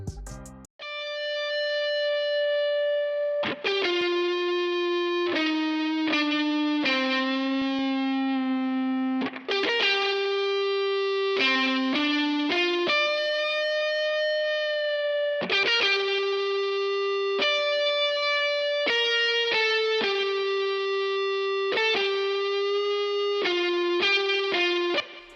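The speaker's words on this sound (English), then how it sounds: "this is what the guitar sounds like." A free Kontakt guitar VST preset played in FL Studio, a clean, sustained electric-guitar tone with distortion and chorus-like effects, picking out a slow, melancholic melody of separate notes and small bends, loud and steady for the whole stretch with no talking.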